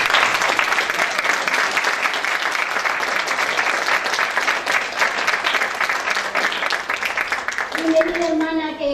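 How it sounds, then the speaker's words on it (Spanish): A church congregation applauds to welcome a first-time visiting sister, a dense burst of clapping from a sizeable crowd lasting several seconds before fading, with a voice beginning to speak at the end. "Le pido un aplauso para ella"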